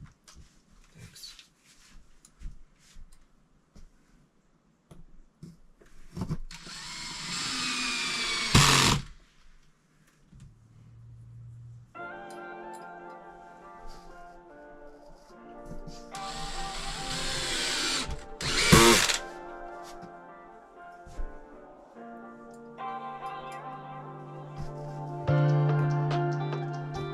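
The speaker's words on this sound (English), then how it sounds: "Screws. This drill is right there." Power drill driving screws while installing straps for soundproofing in a bathroom, several whirring bursts that rise in pitch and then stop, with louder rough grinding surges in between, close by and with no talk.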